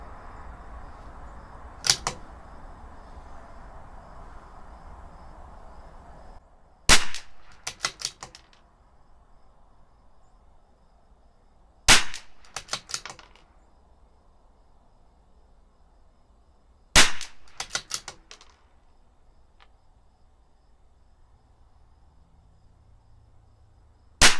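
Four sharp rifle shots from a CZ 457 LRP firing RWS Club ammunition, spaced about five seconds apart, each a loud crack with a brief tail at close range.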